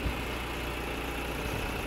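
A New Holland 6010 tractor engine runs steadily while pulling a five-tyne duckfoot cultivator through a field, a faint, continuous low drone with no voices.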